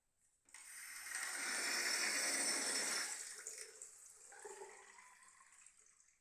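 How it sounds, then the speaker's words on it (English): Water is poured into a bathroom basin in an ensuite to test for leaks. The gush swells quickly, runs steadily for a couple of seconds, then tapers into softer trickling and splashing nearby. "I'll put some more water in."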